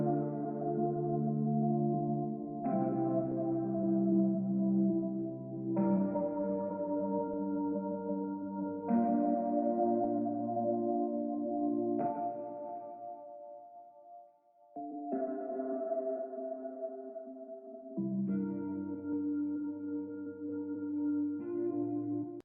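Sustained synth chords from Serum presets, including patches from Echo Soundworks and Fabi Mazur's Elixir, change roughly every three seconds in a steady progression, warm and full with a brief dip near the middle, played alone with no talking.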